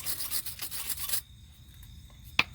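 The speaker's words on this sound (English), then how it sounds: "I use wire brush to clean up all the thread" A wire brush scrubs the rusty threads of an outer tie rod on a Chevrolet Impala in quick, loud rasping strokes for about a second, then stops; a sharp click follows amid quiet background.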